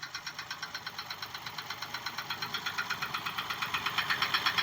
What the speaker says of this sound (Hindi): इंजन बिल्कुल स्मूथ चल रहा है